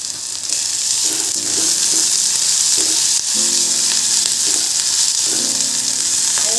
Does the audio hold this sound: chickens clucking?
no